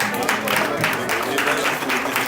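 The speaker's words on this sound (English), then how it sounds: "Let's give the pastor a round of applause" An audience at a Haitian heritage event at the Massachusetts State House claps for a pastor, a brief, steady burst of applause close to the microphone with a faint hint of voices beneath.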